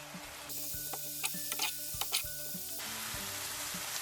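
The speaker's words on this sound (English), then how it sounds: "Stir fry it on low heat or a medium-low heat." Fish cake, onion and carrot sizzle steadily in a pan over medium-low heat, with a few soft stirring scrapes and light background music.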